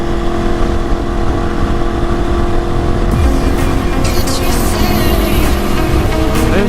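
Steady engine drone and road noise from city traffic in Houston, heard from a riding motorcycle, with a continuous loud rumble and a shift in tone partway through.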